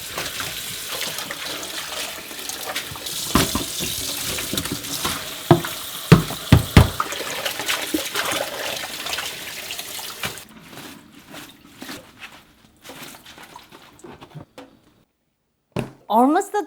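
Tap water runs steadily into a sink as kimchi is washed and drained, with clattering handling knocks over the flow, then the water stops and the sink falls mostly quiet before a few final bumps.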